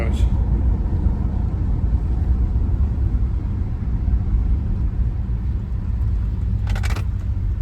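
A 1974 Oldsmobile Cutlass Salon Supreme coupe rolls down the road, its engine a steady low rumble with road noise, heard from a moderate distance with no voices over it.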